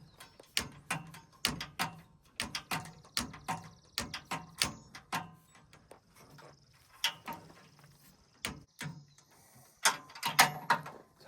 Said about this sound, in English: It's hard to get in there with the torque wrench